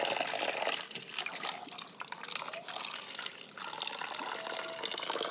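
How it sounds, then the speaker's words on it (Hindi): Water pours into a container, filling it with a continuous bright splashing rush and a few brief dips in level, close to the microphone and with no talk over it. "ये देखो पानी भर लिया"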